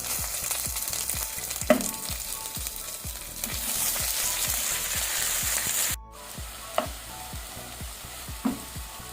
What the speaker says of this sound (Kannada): ಈಗ ನಾವು ಟೊಮೆಟೊವನ್ನು ಸಹ ಒಳ್ಳೆ ರೀತಿ ಮೀಡಿಯಂ ಟು ಹೈ ಫ್ಲೇಮಲ್ಲಿ ಫ್ರೈ ಮಾಡ್ಕೊಳ್ಬೇಕು